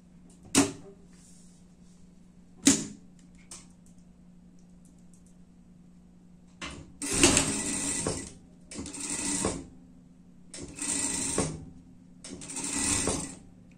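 Sewing machine stitching a seam along a curve on a fabric pet outfit, heard as four rapid mechanical bursts of a few seconds each, preceded by isolated clicks and handling knocks.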